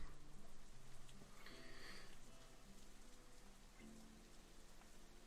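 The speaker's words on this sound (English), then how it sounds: "Torrents of rain for a few minutes, then it's gone." Steady rain falls as a soft, continuous hiss and patter in a visual novel scene, with quiet music tones running underneath throughout.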